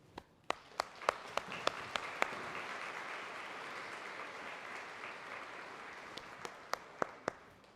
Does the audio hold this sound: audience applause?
yes